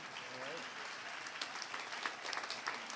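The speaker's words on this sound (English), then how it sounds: "please give all our volunteers a round of applause" Audience at a fiddling competition finals applauds the volunteers, a fairly faint, even spread of clapping with a few sharper claps rising toward the end.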